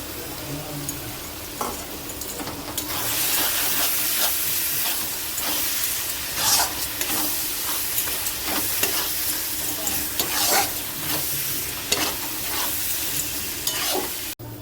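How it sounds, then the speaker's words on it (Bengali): Spices, onion, ginger-garlic paste and tomato being fried and stirred for a mutton curry, with a continuous loud sizzle and hiss and repeated scraping stirs throughout, no voices. "এগুলো সব একসঙ্গে দিয়ে মশলাটা ভালো করে কষে নেব"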